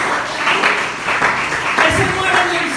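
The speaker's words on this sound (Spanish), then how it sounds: "Así que dense un aplauso en esta noche." Church congregation giving a round of applause during an evening Spanish-language service, loud, close clapping that swells and dips in waves, with voices mixed into the crowd noise.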